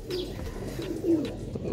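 Fancy pigeons coo softly and repeatedly at close range among general bird activity, a low throaty murmur over light background noise.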